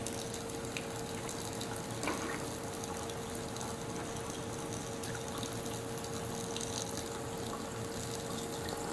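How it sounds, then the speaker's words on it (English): Water flows steadily from a reverse osmosis filter faucet, a constant hissing trickle with small splashes, close and even throughout. "the rate that you see the water coming out is the rate that it's actually being produced by this membrane"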